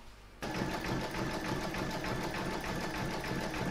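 An embroidery machine sews a satin stitch border on an in-the-hoop table topper. It starts abruptly after a brief quiet moment, then holds a steady, rapid, close mechanical whir with a fast stitching pulse and no voices.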